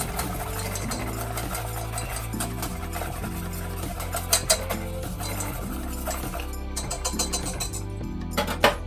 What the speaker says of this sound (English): you can always just come in and kind of whisk it up